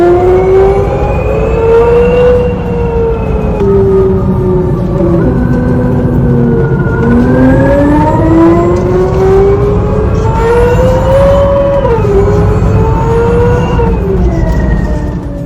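The Hyundai RN22e electric car drives hard around The BEND race track in Australia, its synthesized engine tone rising and falling through simulated gear changes, loud and close, with no talking.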